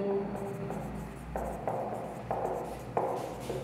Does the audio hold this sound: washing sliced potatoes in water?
no